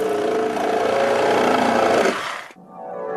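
A power saw bites into wood with a loud, steady whining buzz for about two seconds, then cuts off sharply and leaves a fading hum.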